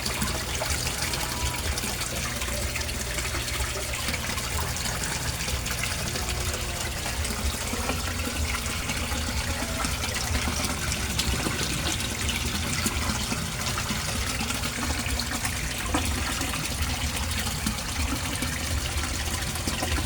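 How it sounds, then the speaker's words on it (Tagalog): Aquarium aerator air pump running alongside a water pump, giving a continuous dense bubbling and trickling of water, steady and close for the whole stretch, no voices. "Aerator, i-on natin. Yung water pump. Yung air pump."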